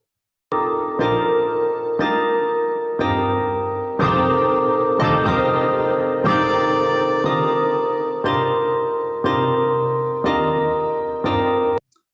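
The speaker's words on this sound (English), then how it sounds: "This is a musical representation of the structure of the spike protein of COVID-19." Calm sonified piece representing the COVID-19 spike protein, with bell-like tones and flute voices in repeating phrases of sustained chords, clear and moderately loud, no speech.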